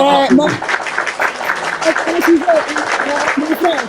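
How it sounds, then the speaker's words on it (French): Audience applause spreads through a room as a steady patter of clapping, with a voice speaking over it for most of the stretch. "On applaudit pour lui."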